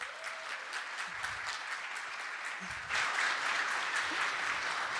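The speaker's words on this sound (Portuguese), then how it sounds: "Palmas para ela." Audience applause at a women-in-Rust programming meetup, a steady dense patter of many hands that swells louder about midway and keeps going, fairly distant with a roomy feel.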